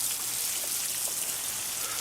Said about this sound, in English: Just water it in with a liquid organic fertilizer.